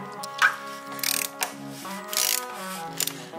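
A ratchet fitted with a 24 mm socket works loose the oil filter on a Jeep JK, giving short bursts of close mechanical clicking over a steady tonal background.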